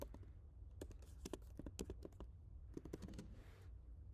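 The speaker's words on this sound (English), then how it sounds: "And I'm just going to type in Fenty." Quick, light clicks of a computer keyboard being typed on during graphic design work in Canva, an irregular burst of keystrokes, close but quiet and with no voices.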